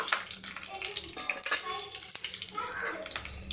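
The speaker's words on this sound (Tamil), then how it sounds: "இது நல்லா ஃப்ரை ஆகட்டும்." Soft crackling and sizzling of chana dal frying in a pan for cluster beans poriyal, with light stirring scrapes, quiet and close.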